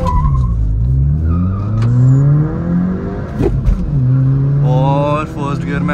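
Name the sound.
Skoda Laura vRS and Octavia vRS launching in a drag race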